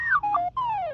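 R2-D2-style droid tones, reversed and pitched down: a short chain of sliding, warbling electronic beeps with brief gaps between them, clear and close.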